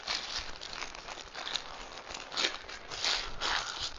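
Scissors snipping a small slit in the edge of a plastic sandwich bag in a kitchen, heard as quiet, close crinkling and rustling of thin plastic with a few faint sharp snips.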